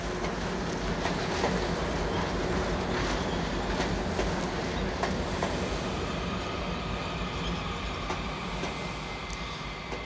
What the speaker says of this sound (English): I'm going to let this train go by here.